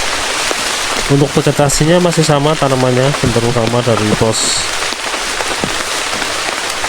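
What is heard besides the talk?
rain falling on a mountain trail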